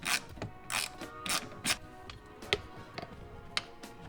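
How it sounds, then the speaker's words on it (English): A ratchet clicks in short, quiet bursts with scattered metallic taps while a cable bracket is unbolted on a K24-powered MR2 Spyder, close and faint. "Now we carefully remove the retaining clip and unbolt the bracket holding the cable."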